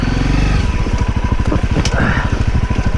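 Honda CRF250L motorcycle on an off-road trail, its engine close and loud with a rapid, steady chugging beat that rises in pitch, plus wind noise and a faint voice underneath.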